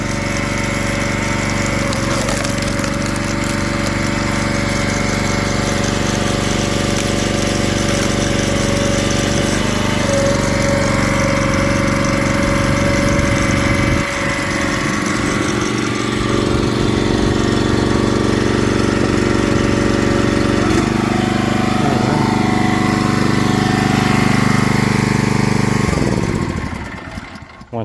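Engine of a wood splitting machine running continuously and loud at a steady, slightly knocking idle for nearly half a minute, then cutting out at the end, with no talk over it.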